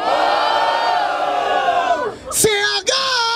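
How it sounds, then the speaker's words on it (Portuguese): A large crowd at a rap battle final roars and cheers loudly and continuously, with shouts rising above the din before it briefly dips and swells again. "Barulho para as rimas do Young"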